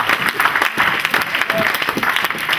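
Church congregation applauding during a French-language sermon, a steady wash of clapping from many hands for a couple of seconds, fairly loud and close, with scattered voices mixed in.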